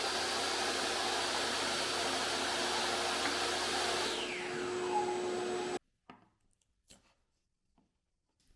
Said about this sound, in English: I'm going to cut the tapering slot first